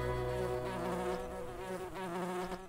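A cartoon bumblebee buzzes steadily, a loud close drone with a rich harmonic hum that wavers slightly in pitch and holds throughout.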